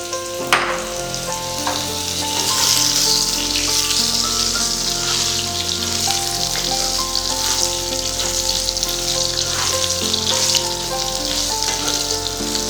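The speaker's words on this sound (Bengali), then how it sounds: "এবার আমি কেটে রাখা আলুগুলোকে দিয়ে দেবো।" Cut potatoes hitting hot oil in a Bengali home kitchen, where green chillies are already frying, send up a loud, steady sizzle with soft stirring scrapes and a sharp splash near the start. No one speaks.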